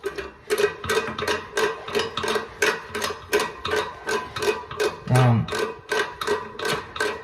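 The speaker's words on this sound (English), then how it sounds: "now we will tighten down these bolts" Bolts on a Gerber white elongated toilet are tightened in short, even ratcheting clicks, a steady run of sharp ticks repeating about twice a second, close and clear with no voices.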